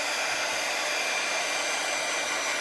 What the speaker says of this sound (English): I'm actually gonna hit it with the dryer real quick because I don't want to take it off while it's wet.